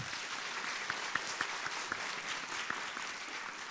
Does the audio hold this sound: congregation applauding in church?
yes